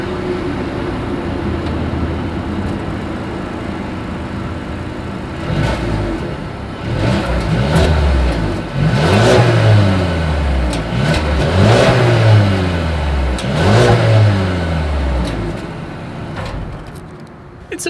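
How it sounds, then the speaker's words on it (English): Exhaust of a 2020 Mercedes-Benz A220 with chrome-tipped outlets, idling steadily and then blipped in a series of loud revs that climb and fall in pitch, close up with no talk. "As always, here is that exhaust clip."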